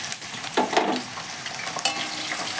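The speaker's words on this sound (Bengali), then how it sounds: "তেলটা গরম হয়ে গেছে। এবার আমি একটা আলুকে ডুমো ডুমো করে কেটে রেখেছি, সেটাকে আমি ভেজে নিচ্ছি।" Diced potato pieces fry in hot oil with a continuous crackling sizzle, broken by a few scraping stirs of a spatula across the pan.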